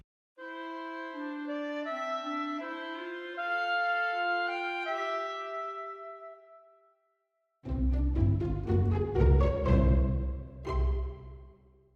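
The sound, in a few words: melody arranged for two clarinets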